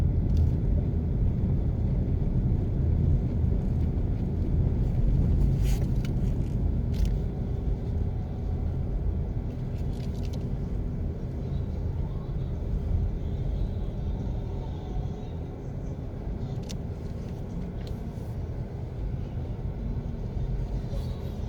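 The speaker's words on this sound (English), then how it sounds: "Road is very bumpy, guys, so I have to be trying to drive slowly" A car creeps slowly along a bumpy road in Cross Roads, Kingston, Jamaica, heard as a steady low cabin rumble with occasional faint knocks and rattles.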